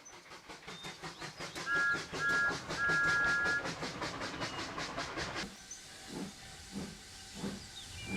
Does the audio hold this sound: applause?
no